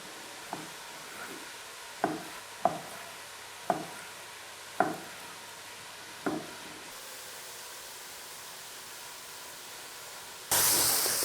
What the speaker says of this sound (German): Die Zwiebeln auch ab und zu mal umrühren, dass sie nicht anbrennen, sondern nur anbraten.